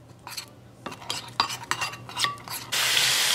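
A spoon scrapes and clinks through a thick face mask of turmeric, honey, aloe vera and pineapple in a small bowl, in quick irregular strokes, close up, ending in a steady hiss.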